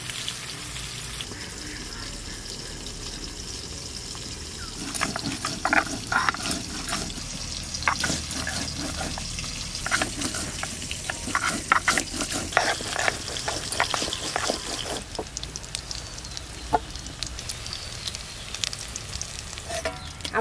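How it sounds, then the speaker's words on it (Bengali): Pieces of bhetki fish fry in hot oil with a steady close sizzle throughout, joined by intermittent stirring and utensil clatter and occasional splashes of running tap water; no one speaks. "মাছ ভাজা হতে হতে আমি এদিকে মশলা করে নেব।"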